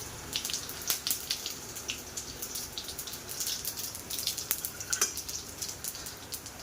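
Cumin and whole coriander seeds hit hot oil in a home kitchen pan, giving a light, steady sizzle with scattered crackles and pops, close and fairly quiet, with no voices.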